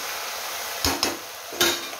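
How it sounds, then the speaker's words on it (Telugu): Pigeon pea curry with potatoes and onions stirred in a pan: three quick scraping, clattering strokes of the spoon over a soft steady sizzle. "ఇప్పుడు దీన్ని బాగా ఇలా ఫుల్ కింద నుంచి పైకి ఫుల్ మంచిగా ఇలా కలుపుకోవాలండి బాగా"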